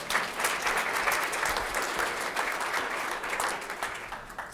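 A crowd gives a round of applause for pastors at a parish leadership gathering, a sustained, even wash of clapping at moderate volume with no voices over it.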